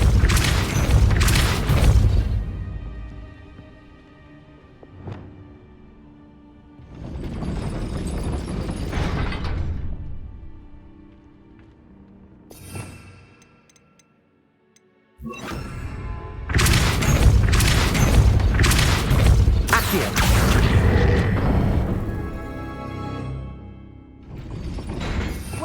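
Spell blasts in a Harry Potter video game: heavy booming impacts arrive in separate bursts with rumbling tails, each loud and full, separated by quieter stretches.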